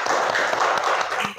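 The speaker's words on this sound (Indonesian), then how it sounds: "silakan tepuk tangan untuk Guntur sudah maju ke depan" A classroom of students applauding a classmate who came to the front, a dense burst of steady clapping from many hands that fades slightly at the end.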